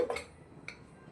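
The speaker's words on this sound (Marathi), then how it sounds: "त्याच्यामध्ये मी स्टँड टाकून घेते. आणि आपण केकचा भांडा ठेवून घेऊया." Metal clinks as a stand and a cake pot are set into a preheated pressure cooker: a couple of quick, soft clatters at the start and another light knock shortly after, otherwise quiet.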